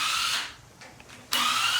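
A handheld power tool whirs in loud bursts while loosening small clutch spring bolts on a dirt bike, running steadily, pausing briefly, then spinning up again.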